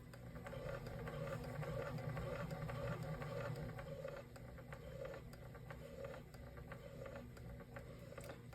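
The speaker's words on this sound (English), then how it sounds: "So it's going nice and slow." A Techsew 202 industrial sewing machine fitted with a speed reducer runs slowly and evenly, a low steady motor hum with faint regular needle ticking throughout, close and fairly quiet.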